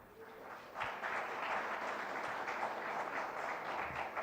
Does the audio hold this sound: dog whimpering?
no